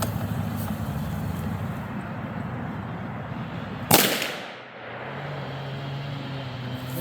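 A single sharp rifle shot from a Savage Axis in .243 Winchester cracks out at a 50-yard outdoor range, followed by a fading echo over a low background hum.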